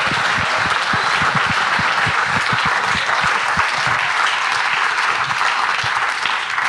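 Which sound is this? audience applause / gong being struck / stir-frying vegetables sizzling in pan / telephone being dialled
audience applause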